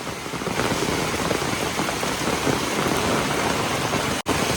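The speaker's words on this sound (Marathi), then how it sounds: "पाऊस खूप जोरात चाललाय मित्रांनो" Heavy monsoon rain by a river in Konkan pours down in a loud, continuous roar, close and unbroken, cut briefly by a sudden dropout near the end.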